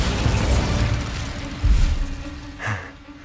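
Bombarda blast spell from Hogwarts Legacy, a booming explosive burst rising out of a dense rumbling game soundscape, with a second, smaller pop shortly after.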